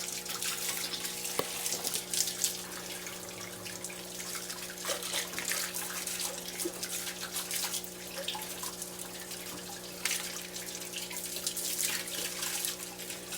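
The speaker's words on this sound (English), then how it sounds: "I got the water thing going. Get a little. I don't know if you can see that. But anyway, it's washing it down." A running water hose washes something down, giving a steady close hiss and splatter of flowing water that continues unbroken, with no one talking.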